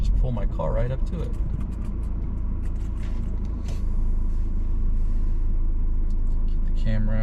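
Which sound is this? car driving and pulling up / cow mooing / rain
car driving and pulling up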